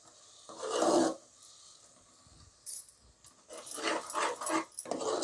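A spoon scrapes and stirs a thick ground tomato-onion paste in a pan of mutton kurma, with short rasping bursts separated by quieter pauses, fairly close and moderately loud.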